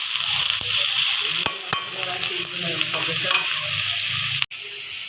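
Salted onions fry in a pan under a loud, close sizzle while a spoon stirs and scrapes in quick strokes, ending in a sharp clack and a brief drop to near silence.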